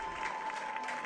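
Spectators at a North Carolina high school 4A soccer playoff between Ardrey Kell and Cuthbertson applaud and cheer before the second half, a brief, steady wash of clapping heard from a distance.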